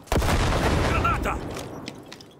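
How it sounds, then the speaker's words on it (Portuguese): A grenade explodes in the video game Cyberpunk 2077 with a sudden loud boom, followed by a rumbling decay that fades over about two seconds. "Granada!"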